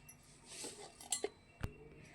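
Dishes are put away in a home kitchen with a few faint clinks and knocks of crockery and utensils set down, alone against quiet room tone.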